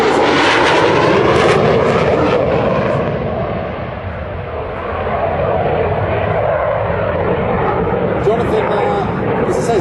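A Spitfire aeroplane flying at an air display at Dunsfold, its engine a loud, sustained roar that swells and fades slightly as it passes, with voices talking over it.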